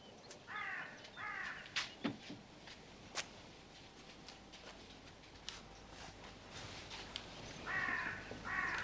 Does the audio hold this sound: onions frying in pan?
no